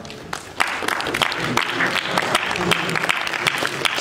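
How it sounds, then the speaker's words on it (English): A university audience at a guest talk bursts into applause, with crisp, dense clapping rising sharply after a brief lull and continuing strongly to the end. "Can we clap for him?"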